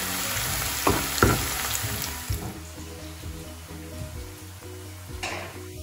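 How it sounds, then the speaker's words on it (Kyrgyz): Onion frying in a pan, a continuous close sizzle with a few sharper clinks of a utensil early on, settling into a softer steady crackle. "Piyaz жакшылап куурулду."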